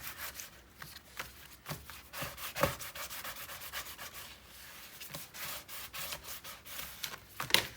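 Paper is burnished by hand while a scrapbook mini album is assembled, a steady run of close, dry rubbing strokes repeating at an even pace for several seconds with no talking.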